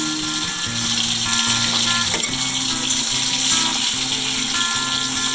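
Bitter gourd sizzles steadily in hot refined oil for Bengali shukto, a dense continuous frying hiss heard close up with no talk.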